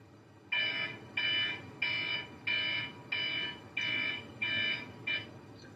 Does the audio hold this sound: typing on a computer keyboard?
no